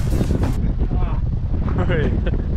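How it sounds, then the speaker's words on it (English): Gusting wind blows outdoors at a parkour spot, rumbling across the microphone in low buffeting bursts while people talk over it. "That's the wind, I think."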